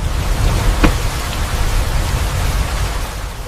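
Steady, heavy rain pours down as a dense, even hiss, loud and close, with no voices over it.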